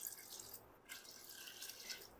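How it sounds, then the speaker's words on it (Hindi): Water poured into a pot of soaking moong and masoor lentils, a soft steady splashing and dripping stream heard close up, fairly quiet, with no talking. "इसमें मैंने टोटल 3 मग पानी डाल दिया है।"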